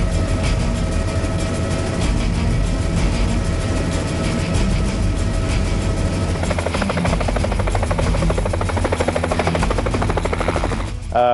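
Steady, loud helicopter rotor thumping with a heavy engine drone, continuous and close for the whole stretch, on a flight to Kaska Goose Lodge for snow goose hunting.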